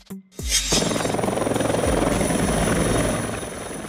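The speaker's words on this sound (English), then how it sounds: "a helicopter used for firefighting, typically equipped with water or fire retardant materials." A firefighting helicopter, the kind fitted to carry water or fire retardant, roars in after a brief silent start and holds a loud, steady rotor chop with a heavy engine whine, close and alone.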